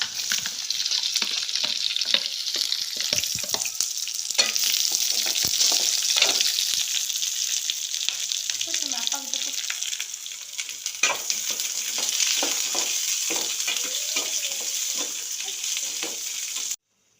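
Mustard seeds, curry leaves and crushed garlic fry in hot oil, a loud close sizzle with dense crackling pops and spatter, steady for most of the time before stopping abruptly at the end.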